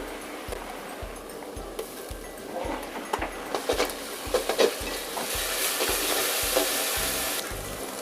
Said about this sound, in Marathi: आले लसूण पेस्ट भाजून झाली आहे